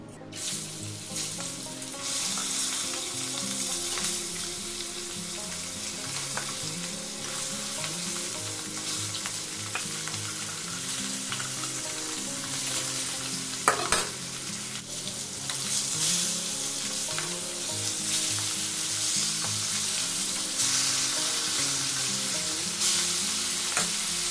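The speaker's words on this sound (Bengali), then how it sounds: "তেলটা একটু বেশি দিয়ে দিচ্ছি। মাছগুলো ভেজে নেব।" Foli fish frying in oil seasoned with salt and turmeric, a loud, continuous sizzle up close with steady bubbling crackle and a few stirring knocks, no voices.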